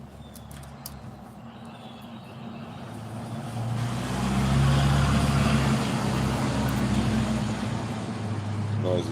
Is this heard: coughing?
no